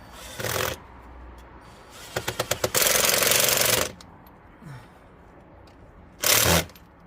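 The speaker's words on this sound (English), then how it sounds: "I'm going to start getting these screws in" A power driver sinks screws into a garden railway track base, with short whirring bursts and a rapid ratcheting rattle, heard close and loud between pauses.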